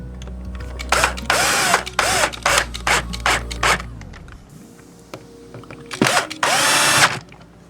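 Cordless power drill driving screws into a Fender Squier Mini guitar body during a refinish, several loud close bursts of whirring with short pauses between, ending in one longer run.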